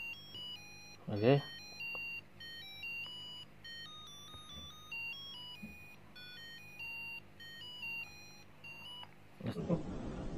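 A 3-in-1 pocket calendar alarm clock (HSD211A) beeps in short electronic tones repeated across the clip, close and moderately loud, with a few handling clicks and rustles.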